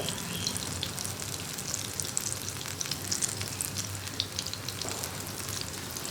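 Goli baji snacks deep-frying in hot oil, a steady dense sizzle and crackle with scattered pops and bubbling, close and constant throughout with no talking.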